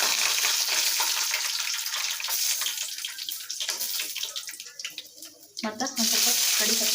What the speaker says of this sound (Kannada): ಎಣ್ಣೆ ಕಾಯ್ದದ್ರಿ. ಈಗ ಇದಕ್ಕೆ ಫಸ್ಟ್ ನಾನು ಶೇಂಗಾ ಬೀಜ ಹಾಕೋತೀನಿ.